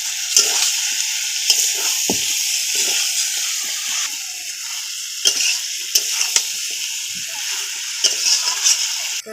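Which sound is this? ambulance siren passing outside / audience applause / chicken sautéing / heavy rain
chicken sautéing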